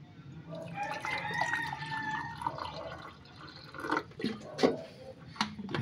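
Warm drinking water, about two cups' worth, is poured into a cup close by with soft trickling and dripping. Liquid splashes grow more prominent toward the end, and faint background murmur sits underneath.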